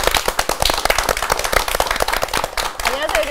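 An audience at a Korean classical music talk show claps to welcome a guest, sharp close clapping with distinct individual hits, a tonal sound rising briefly near the end.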